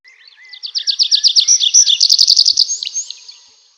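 A bird sings a rapid series of bright, high chirps, about a dozen notes in a quick trill, loud and close, with no voices.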